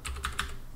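A few quick keystrokes on a computer keyboard as a filter name is typed into image processing software, four crisp clicks in under a second, close and distinct.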